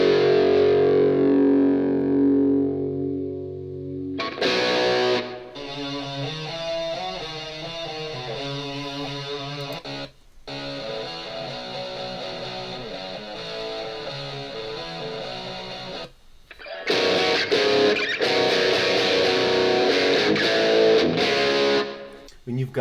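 Stacked, distorted electric guitars played through a Nu-X Mighty Plug tone-matched preset with reverb added, loud and continuous with sustained chords and riffs, a brief drop near four seconds and short gaps around ten and sixteen seconds.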